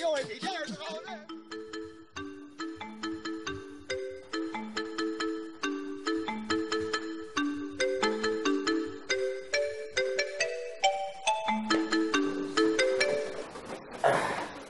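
An alarm clock rings in a bedroom with a looping electronic melody of bright repeated notes. The tune plays steadily and fairly loudly for about fifteen seconds.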